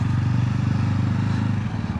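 CR250 Scrambler-style motorcycle ridden on a windy, sunny day, a loud close engine with a rapid pulsing thump throughout, heard alone.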